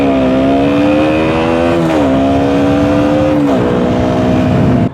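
KTM Duke 125 motorcycle single-cylinder engine revved hard and held near the limiter, a loud steady buzzing drone with two brief dips in pitch before climbing again, close to the microphone with no talking.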